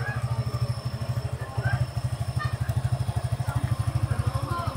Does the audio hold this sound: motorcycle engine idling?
yes